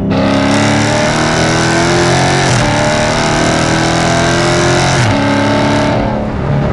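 A 2016 Dodge Challenger ScatPack V8 accelerates hard out of a corner, its engine loud and close, climbing through the revs with two gear shifts before the note eases off.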